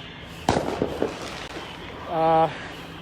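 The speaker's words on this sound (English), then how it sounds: "Fireworks are popping off." Fireworks pop outdoors during a night street protest by a police precinct, a sharp loud bang followed by a few smaller crackling pops, with a brief tonal whistle or siren-like burst near the end.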